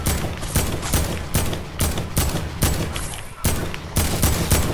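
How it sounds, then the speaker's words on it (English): A gun in Fortnite Battle Royale fires at zombies in loud, regular bursts about every half second. The steady rhythm of repeated shots runs throughout with only a brief gap. "I'm gonna shoot the zombies."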